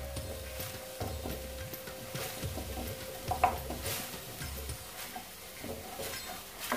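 Garlic stirred in a pan for a Moroccan green bean tajine, with soft repeated scraping and light clinks of utensil on metal over a faint steady sizzle, fairly quiet and continuous.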